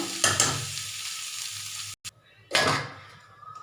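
Bitter gourd is stir-fried in a pan over medium flame, giving two close bursts of sizzling and stirring separated by a brief quiet gap.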